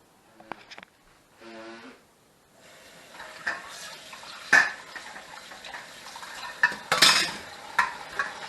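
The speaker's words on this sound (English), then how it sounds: "put it in a bowl and then add water to make a slurry and then just pour it in the funnel." A spoon stirs ginger zest and water into a slurry in a bowl, with light clinks and scraping before the mixture is poured into a funnel in a splashy, uneven stream.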